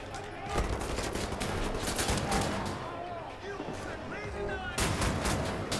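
Bursts of automatic gunfire and sharp shots crackle close and loud in the shooter game Wolfenstein: The New Order, nearly continuous with brief lulls, accompanied by game effects.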